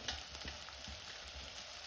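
A steady, fairly quiet sizzle of dry spice powders frying in hot oil on a wood-fired stove, with faint stirring scrapes and no voices.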